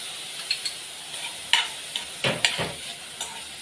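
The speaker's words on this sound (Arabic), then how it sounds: "هحط هنا حاجاتي بقى اللي هي ايه: البصل وفصين الثوم والقرن الفلفل المفروم." Onion, garlic and minced chili pepper frying in a pan, giving a soft steady sizzle with a few stirring scrapes and clicks at irregular intervals, close by and quiet, with no talking.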